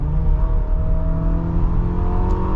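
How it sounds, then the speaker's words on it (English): Four-cylinder turbo engine of a 2025 Infiniti QX60 accelerating, heard from inside the cabin as a steady droning hum with a gradually rising whir under constant road noise. "the turbo engine is pretty nice to drive"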